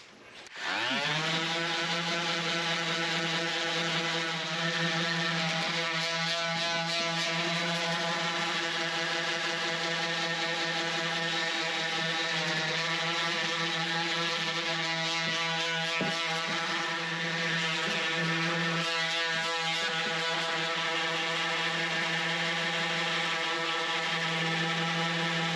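A power sander working scrap wood with 80 grit sandpaper, a loud, steady motor whine with a rough abrasive rasp that holds almost unbroken for the whole stretch after a quick spin-up at the start.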